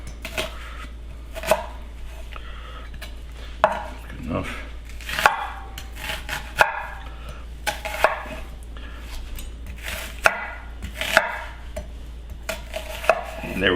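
A knife chops large sweet onions into wedges from root to stem on a cutting board, with sharp, close, irregular thumps spaced a second or so apart, alone with no talk.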